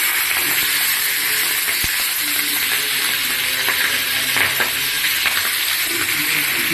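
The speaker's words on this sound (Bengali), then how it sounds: "এখন দিয়ে দেবো একটু জিরা, ভালো করে একটু নেড়ে করে নেব।" Cumin seeds and green chillies frying in hot oil with whole spices, a dense, loud, continuous sizzle with occasional stirring knocks, close up.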